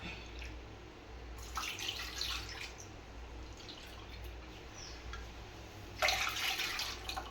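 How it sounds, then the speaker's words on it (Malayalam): Water poured into a pan of jaggery, splashing and trickling in bursts, with louder pours near the start and again toward the end, heard close with no talk. "ഇതിനകത്ത് രണ്ട് കപ്പ് വെള്ളം കൂടി ഒഴിച്ചു കൊടുത്ത് നമുക്കിതൊന്ന് ഉരുക്കിയെടുക്കാം"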